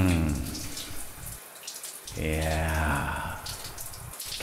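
Shower water runs with a splashing, hissing spray that continues throughout, partly masked by someone speaking and a loud sung or spoken jingle over it.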